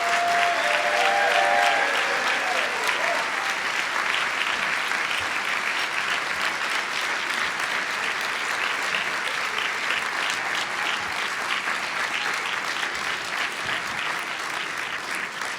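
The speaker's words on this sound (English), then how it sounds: "Yeah, give them all an applause." Sustained clapping fills a banquet hall at a county bar association's Martin Luther King Jr. luncheon, a broad even wash of many hands that fades slightly near the end, with a brief murmur of voices early on.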